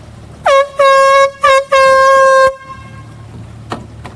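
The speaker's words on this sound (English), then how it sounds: "They asked us to sound a blowhorn to try to get people's attention here who might need help" Four loud blasts of a blowhorn sound during a Hurricane Harvey flood rescue near Spring, Texas, two short toots and two longer holds, followed by quiet background and a faint distant knock.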